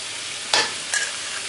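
Beef stir-fried with Thai basil and dried chilies sizzles in a hot pan, with two quick scraping stirs of a spatula rising above a steady frying hiss, up close and without talking.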